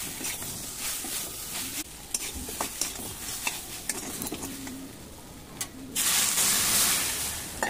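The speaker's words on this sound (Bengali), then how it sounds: "ভালো করে নাড়াচাড়া করে একটু ভাজা ভাজা করে নিয়ে" Taro pieces with turmeric fry in a pan while being stirred, giving a steady sizzle broken by repeated scraping strokes and clinks, and ending with a louder burst of hissing.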